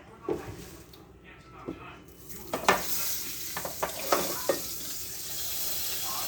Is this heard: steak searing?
yes